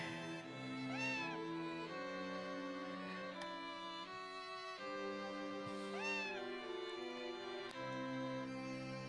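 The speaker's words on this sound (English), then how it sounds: "The orange cat meows like Rocky." An orange cat in the farming video game Harvest Moon: A Wonderful Life meows twice, about five seconds apart, over steady background game music.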